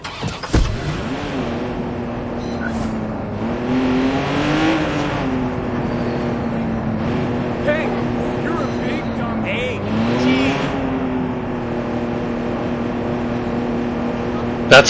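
Car engine from the video game Watch Dogs 2, a steady droning hum that rises and dips as the vehicle accelerates and eases off, with brief skids and crashes, loud and continuous throughout.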